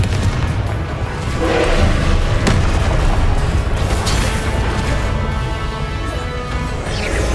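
Fiery Confringo blasting spells explode in Hogwarts Legacy combat, a loud, dense roar of booms and crashes with sharp bursts near two and four seconds, sustained without pause.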